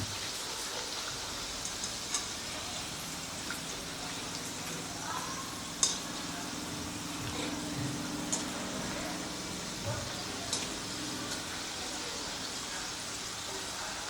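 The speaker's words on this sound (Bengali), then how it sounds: "মিডিয়াম ফ্লেমে কিন্তু আস্তে আস্তে সুন্দরভাবে ভাজাটা হচ্ছে" Snacks fry slowly in hot oil over a medium flame, a steady soft sizzle and crackle with occasional sharper pops, held close throughout.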